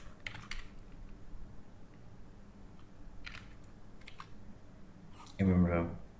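A computer keyboard is typed on while HTML hyperlink code is entered. Short clusters of close key clicks come at the start and middle, then a louder final burst, with quiet speech underneath.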